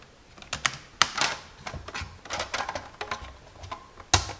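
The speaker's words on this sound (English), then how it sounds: "we can take our trim piece and snap it into place" Hard plastic trim piece for a 1997-2001 Jeep single-DIN radio dash being worked and snapped into place, a run of close, sharp clicks and taps at irregular intervals with a final crisp snap near the end.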